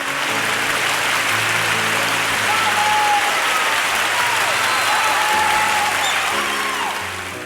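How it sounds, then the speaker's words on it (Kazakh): Long, dense applause from a large audience at the Oscar ceremony honoring Charlie Chaplin, a loud sustained roar of clapping with faint musical tones beneath, easing off toward the end. "Мерекелік рәсімде қонақтар Чарли Чаплин үшін 12 минут бойы қол шапалақтайды"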